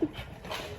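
An excited pet dog pants quickly and gives a short whimper, close and clear, in a home after someone comes to the door.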